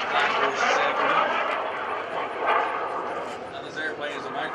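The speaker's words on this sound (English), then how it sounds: "this airplane is a microjet, BD microjet technology" An FLS Microjet BD-5 kit jet flying at an airshow, a distant airy whine and rush rising and falling while an announcer talks over it.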